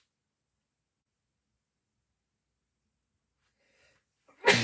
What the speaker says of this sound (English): Achoo.